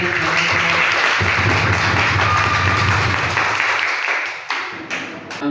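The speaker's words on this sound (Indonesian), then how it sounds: "Kita beri aplaus kepada" An audience at a group discussion session claps in a dense, loud, sustained round of applause that thins out and tapers off near the end.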